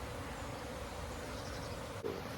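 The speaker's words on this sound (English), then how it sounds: "there's loads of bees flying around" Bees swarm around hives in a sheltered, windless, sunny spot on an unseasonably warm February day, a faint continuous buzzing hum interrupted by a brief soft knock near the end.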